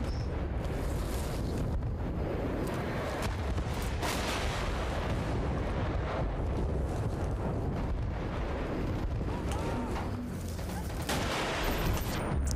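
In the video game Battlefield Bad Company 2 Vietnam, a roaring, continuous wash of explosions and heavy gunfire, with a deep rumbling blast, sits loud throughout alongside wind-like noise.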